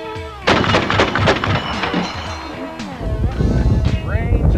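An M2 heavy machine gun fires a rapid, loud series of booming shots with rolling echoes, followed by more heavy reports, while a person talks over part of it.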